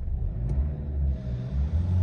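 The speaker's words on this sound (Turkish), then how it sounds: "Gaz veriyorum." A Renault Fluence engine, its oil warning light on, revs steadily with a deep, continuous rumble that swells slightly near the end, heard close with no talking.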